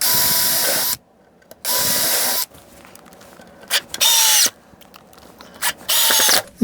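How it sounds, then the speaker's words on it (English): A power drill whirs in several bursts, starting and stopping as it drills holes and drives screws into a wooden model railroad baseboard, with quieter clicks and handling noise between runs. "I'm just going to drill 2 holes here in the end and put 2 screws in."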